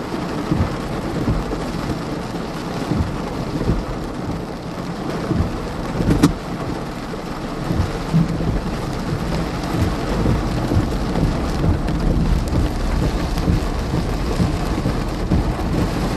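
Heavy rain pours steadily during a thunderstorm in Iowa, a dense continuous roar of rain on surfaces with low thunder rumbling underneath and a sharp crack partway through, loud and close with no talking.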